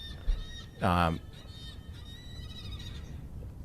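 A single loud bird honk, goose-like, rings out near the one-second mark, with a faint voice just before it over steady background hum during a livestream of SpaceX's Starship SN-8 static fire.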